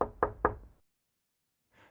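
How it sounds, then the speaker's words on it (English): Three gentle knocks on a door land in quick, even succession, close and clear, then fade into silence before a faint rustle. "Then, 3 gentle knocks."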